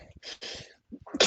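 A person sneezes close up, with a short breathy buildup and then a sharp, loud burst of noise at the end.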